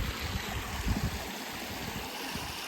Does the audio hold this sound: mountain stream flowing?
yes